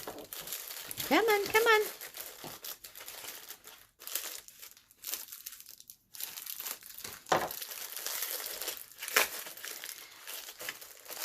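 Paper from a gummy envelope is tugged and crinkled open at close range, with rustling, crumpling bursts and tearing scrapes between pauses, while a voice speaks briefly and softly.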